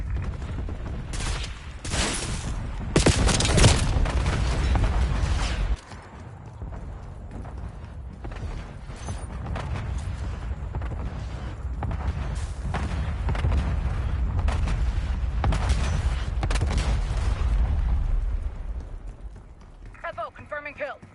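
Artillery rounds fired for effect in a video game, a barrage of heavy booms and crackling blasts that is loud early on and then gives way to a rumbling, sustained roll of fire, with voices heard over the top.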